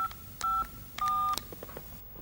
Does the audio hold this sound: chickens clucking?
no